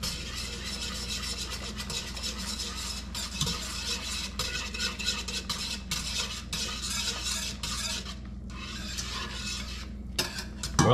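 Sugar is stirred into reduced beet juice in a pot, giving a steady soft scraping and swishing with faint bubbling underneath, close and continuous, with a louder clatter near the end.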